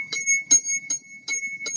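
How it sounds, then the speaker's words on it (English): A small hand bell rings in five quick, bright bursts at an uneven rhythm, close by, with a faint steady high tone running underneath. "She stopped running around ringing that bell."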